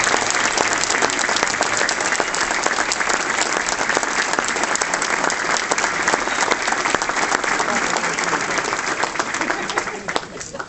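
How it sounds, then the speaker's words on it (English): A hall of fame audience honoring Mummers inductees breaks into a sustained round of applause, dense and steady for about ten seconds before starting to thin at the end. "Ladies and gentlemen, please give a big round of applause to Mark Danielewicz of the Polish American S"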